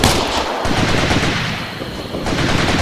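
Automatic weapons fire rattles loudly and continuously in the video game Operation Flashpoint: Red River, dense overlapping bursts of machine-gun and rifle shots close by.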